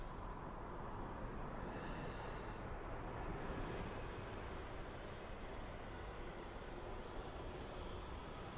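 Emirates airliner at Birmingham Airport, a continuous broad engine roar heard from a distance, steady and even throughout with no voices.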